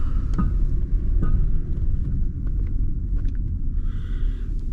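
A 1991 Mitsubishi Diamante 30R-SE idling while it slowly warms up, a steady low rumble close by with light wind buffeting, no talk.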